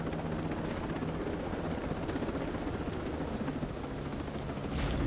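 Helicopter flying in the Ghost Recon Breakpoint shooter game, a continuous loud rotor and engine roar with chopping texture, steady for the whole stretch and swelling slightly at the end.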